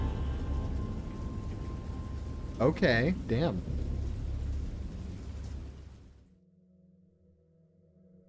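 A storm effect in an H.P. Lovecraft visual novel game sounds as a low, steady rumble of rain and thunder that fades away near the end, while someone speaks briefly over it.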